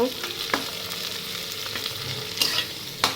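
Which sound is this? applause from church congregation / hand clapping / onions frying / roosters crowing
onions frying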